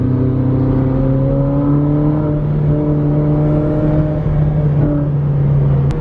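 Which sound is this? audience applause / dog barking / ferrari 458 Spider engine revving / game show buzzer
ferrari 458 Spider engine revving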